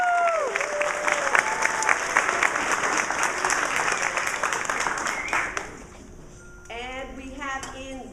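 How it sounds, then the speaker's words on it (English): A band concert audience gives a round of applause for the low brass section, a dense wash of clapping and crowd noise under a voice with sliding tones, fading at the end as a tuneful voice enters. "We have a nice big round of applause for our low brass."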